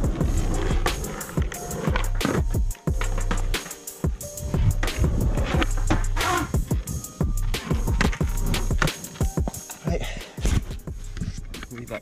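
A skateboard rolls and clatters on pavement while a rider practises frontside and backside 180s with reverts: rumbling wheel roll broken by sharp board slaps and scuffs at irregular intervals, close up, with brief voices in between.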